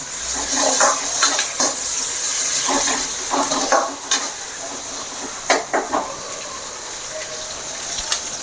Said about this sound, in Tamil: பச்சை மிளகா கருவேப்பில்லை எல்லாத்தையும் நல்லா வதக்கிக்கணும்